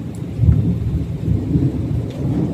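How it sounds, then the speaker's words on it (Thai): Steady heavy rain roaring with a low, rumbling wash, continuous and loud throughout with no voices. "ฝนตกหนักเลยทุกคน"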